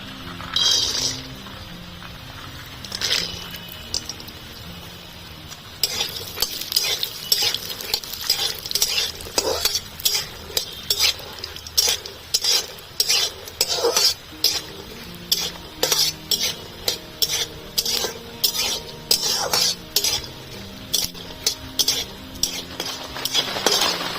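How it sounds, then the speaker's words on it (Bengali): Peanuts frying in white oil in a hot wok for chirer polao, with a steady sizzle under dozens of sharp, rhythmic metal stirring scrapes and clinks, close and loud after a quieter start. "দিয়ে দিচ্ছি চিনে বাদাম চিনে বাদামটা ভেজে নেবো"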